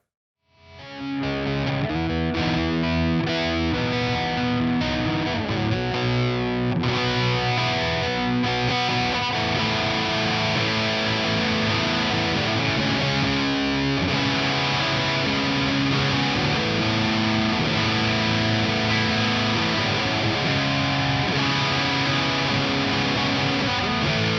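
A heavily distorted electric guitar through a Boss Metal Zone distortion pedal plays loud, sustained chords and riffs continuously, thick and saturated throughout.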